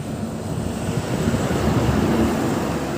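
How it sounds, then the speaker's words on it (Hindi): Steady outdoor wind rushes and buffets the microphone in a continuous broadband roar, swelling slightly midway, with no one speaking. "अच्छी हवा चल रही है यहाँ पे।"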